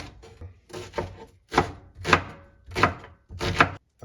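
An onion chopped with a knife on a board for a vegetable omelette: about eight crisp, close knocks in an uneven rhythm, some in quick pairs, with short gaps between and no voice.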